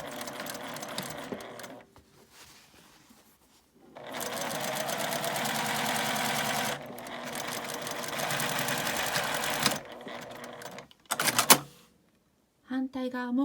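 A sewing machine stitches the seam of a lined drawstring bag in several close bursts of rapid, rattling whir separated by short pauses, with a voice speaking briefly near the end.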